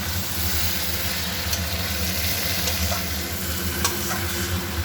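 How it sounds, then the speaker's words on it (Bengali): Fried potatoes are stirred into a pan of shrimp dopiyaza, a continuous close sizzle with light scraping and a low steady background hum. "এবার আমি ভেজে রাখা আলুটাও দিয়ে দিলাম, দিয়ে ভালো করে নেড়ে নিচ্ছি"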